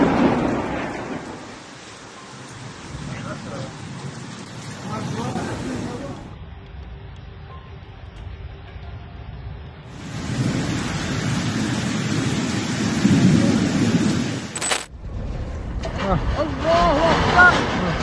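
Hurricane Milton, with winds near 290 km/h strong enough to tear off a roof, brings heavy rain and low rumbles of thunder, its loudness swelling and easing, with voices heard in places.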